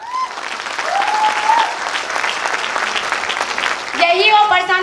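An audience bursts into loud, sustained applause after company founders are introduced, a dense clatter of clapping that swells, then a voice talks over the end.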